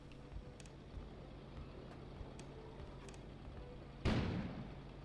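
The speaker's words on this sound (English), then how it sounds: "An explosion suddenly occurred outside." A sudden explosion booms outside in the video game KONA, a single sharp burst near the end that decays into a rumble after a quiet stretch of faint background ambience and small knocks.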